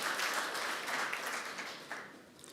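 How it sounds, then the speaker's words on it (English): Audience applause at the launch of the KykNet 'Ideemakers' series, a steady wash of clapping that slowly softens over a couple of seconds. "Can we just have a big round of applause for the UFS"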